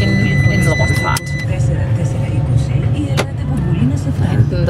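A small rented Fiat Panda drives along roads on the Greek island of Kos, its steady engine drone and road rumble filling the cabin while someone talks over it.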